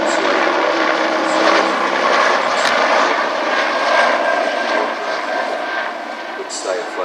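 A manned, torpedo-carrying naval helicopter, later fitted with floats, runs at an air festival with a steady, loud rotor and engine drone that eases slightly near the end, and people talk faintly in the background.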